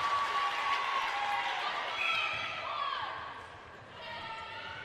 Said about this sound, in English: The crowd go wild for her.